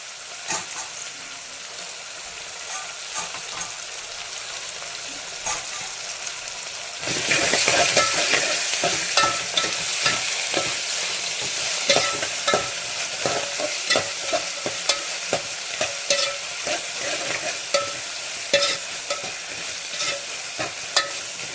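Chicken fry with chopped tomato and greens cooking in a pan, a soft sizzle that jumps louder as food hits the hot oil, then steady close frying with repeated spatula scrapes and stirs, no talk.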